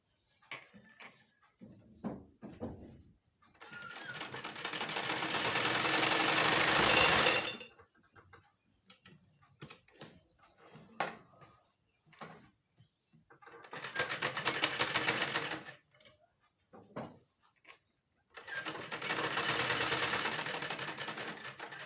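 A sewing machine stitches a pocket onto ladies' palazzo trousers, running in three long steady bursts separated by pauses filled with small handling clicks and taps, close and loud.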